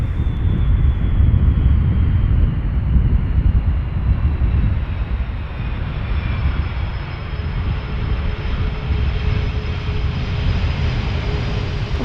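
An airliner landing at Amsterdam Schiphol, its engines and thrust reverser producing a loud, deep rumbling roar that surges early and then gradually eases as the aircraft slows, with no voices.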